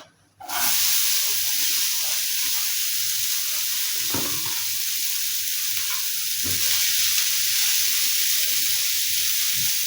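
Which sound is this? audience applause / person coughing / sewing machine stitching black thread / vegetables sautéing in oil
vegetables sautéing in oil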